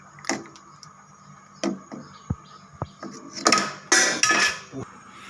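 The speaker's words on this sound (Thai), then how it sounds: "หลังจากนั้นเราก็ใส่กบลงไปเลยนะครับใส่ลงไปเลย คนสักหน่อยนะครับ" Frog curry in coconut milk is stirred in a cooking pot, with a spoon scraping and clanking against the metal in irregular bursts, sharp close knocks and clinks separated by short quiet gaps.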